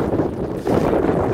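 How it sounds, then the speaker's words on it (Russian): A brief burst of strong wind blows across the microphone at Cape Shamansky near Mavrikul, a dense rumbling roar that swells slightly halfway through. "Страшный ветер дует, наверное, камеру будет задувать."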